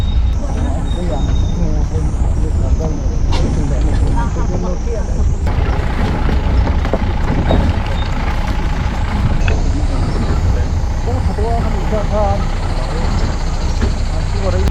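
A Mahindra Bolero grinds down a steep, rough slope on an interior track in Mizoram, its engine a loud, steady drone with jolts and knocks. Someone talks over the vehicle noise throughout.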